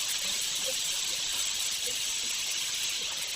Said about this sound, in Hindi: पहले गोश्त फ्राई कर लें